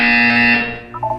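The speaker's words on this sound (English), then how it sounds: "You will hear a buzzer. When you hear the buzzer, look up at the ceiling." A loud, harsh buzzer in the video game Portal 2 sounds for about half a second, then fades as a short electronic chime follows.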